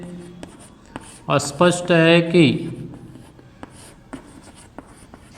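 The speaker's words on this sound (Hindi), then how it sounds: "तो आइए हम यहाँ लिखेंगे" Chalk or marker writing on a board during a Class 11 maths lesson on sets: short scratchy strokes run under a teacher's spoken explanation, close and clear.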